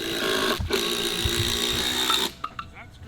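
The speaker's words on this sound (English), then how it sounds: "Is that screwing into the other beam?" Power tool whining steadily as it drives a screw into a massive wooden beam on a deck pergola build, running loud and continuous for about two seconds before stopping, followed by a few short knocks.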